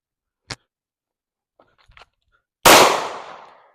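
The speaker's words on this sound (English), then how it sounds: "now I'm gonna shoot my 19 clone" A Glock 19 clone pistol fires a single sharp, loud shot that rings off, after a faint click and a few small handling sounds.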